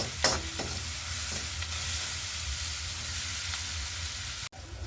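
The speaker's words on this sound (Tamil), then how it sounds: "இப்போ நாங்கள் வெங்காயம் வதங்கி கொண்டிருக்க உப்பு சேர்த்து கொள்ளுறோம்" Onions sautéing in a pan with salt, a steady soft sizzle under a constant low hum, a few faint spoon taps near the start and a brief dropout near the end.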